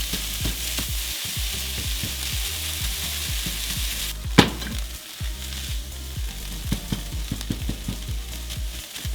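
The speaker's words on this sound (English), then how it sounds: "Now, both sides are seared, time to chop this meat up." A seared ground turkey patty broken up in a hot pan, loud continuous sizzling with a steady series of rhythmic chopping and scraping strokes from a utensil and one sharper clack midway, no speech.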